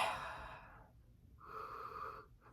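Two close nasal sniffs at a freshly poured Coors Edge non-alcoholic beer, each a soft airy rush separated by a short pause, with a brief sharp click at the end.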